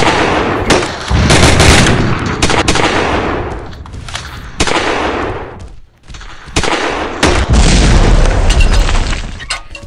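Loud, dense gunfire and booming rocket explosions fill a multiplayer shooter video game, with nearly continuous blasts and rattling shots and a brief lull midway.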